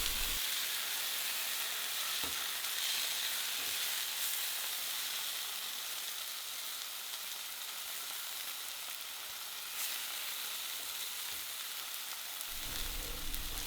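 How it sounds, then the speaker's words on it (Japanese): Beef tenderloin sears slowly in a frying pan over moderate heat, giving a steady, even sizzle that holds for the whole stretch, with a few faint soft knocks from the pan being moved. "なので火加減も強すぎずなく中火でゆっくり火を入れて、表面をきれいにキャラメリゼさせながら旨味を閉じ込めながら焼いていきます。"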